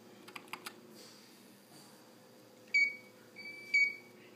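A smart home light switch is double clicked, giving a few quick faint clicks followed by two short electronic beeps from the home system.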